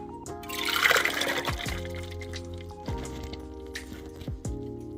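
Fresh juice of mango, orange, lemon, golden beet and star fruit pours out in a steady liquid stream that swells early, then settles into a softer trickle with occasional splashes.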